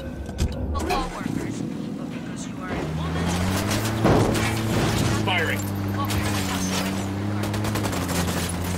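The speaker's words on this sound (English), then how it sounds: "Firing." Rapid automatic gunfire in the video game Ghost Recon Wildlands, dense crackling bursts layered over a droning vehicle engine, loud and continuous with brief shouts mixed in.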